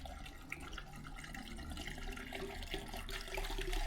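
Kerosene glugs out of a container through a loose-fitting funnel into an engine's oil filler, a soft continuous liquid pour with gurgling that grows slightly louder toward the end, heard faintly and up close.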